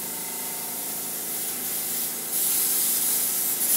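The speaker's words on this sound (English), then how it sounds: "we're going to go over and airbrush some pearl shimmer onto it" An airbrush sprays pearl shimmer onto roses on a cake, a steady close hiss with a small compressor running underneath, growing louder and brighter partway through.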